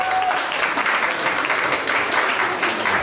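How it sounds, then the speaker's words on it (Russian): An audience at a bachata dance competition semifinal claps steadily in dense, close applause, loud and sustained for a few seconds with no talk over it. "Похлопаем, похлопаем."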